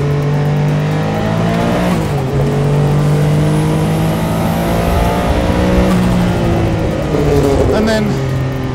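A Porsche 962 Le Mans race car engine roars loud and close from inside the cockpit, its pitch climbing as it accelerates hard through the gears with brief drops at each shift, while someone talks over the engine.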